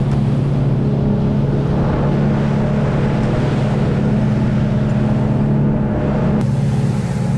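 Boat engines heading back to shore, a loud steady low drone with a constant rumbling hum and wind and water noise on top, continuous throughout with no talking.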